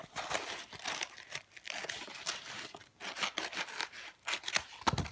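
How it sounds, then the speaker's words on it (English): Scissors snip through aluminium foil in a quick run of close, crisp cuts with crinkling and rustling, louder bursts toward the end, no talk. "So you open up your foil, cut it in, I'd say cut it in about half."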